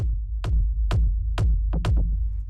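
Techno drum group heard without its saturator: deep booming kicks land at a steady pulse with short bright percussive hits on top and a quick double hit near the end, loud and dry with no voices.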